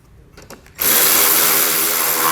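A power drill drives screws back into a support on a 2019 Mercedes-Benz GLA during a trailer hitch install, starting after a quiet pause and then whirring loud and steady close by.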